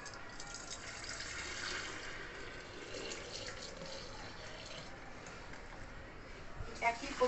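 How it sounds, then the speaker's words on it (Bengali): Milk poured back and forth from a frying pan into a jug while making sweet yogurt, a steady liquid splashing stream that runs throughout, ending in a few clinks of the vessels. "আবার ঢেলে দিচ্ছি ফ্রাই প্যান থেকে জগের মধ্যে।"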